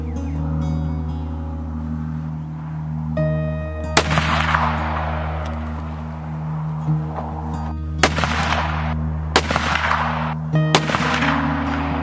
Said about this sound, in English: With the gun shooting well,